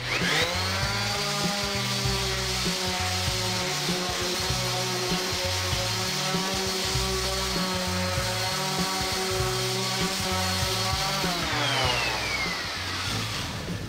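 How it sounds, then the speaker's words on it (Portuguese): A power sander fitted with coarse sandpaper runs continuously and loudly against a motocross diorama, a steady motor whine with rough grinding, then winding down near the end. "Vamos botar uma lixinha mais grossa aqui na máquina e bora lá"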